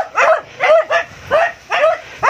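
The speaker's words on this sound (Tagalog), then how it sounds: "Galit yung aso." Close, loud dog barking in a rapid series of six or so harsh, aggressive barks with short gaps between them.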